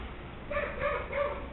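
A neighbouring dog barks three times in a quick run, heard faintly from next door and partly muffled, with no talking over it.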